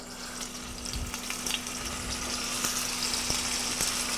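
Pepper sizzling in hot olive oil in a pan gives a steady crackling hiss with scattered sharp pops over a low background hum.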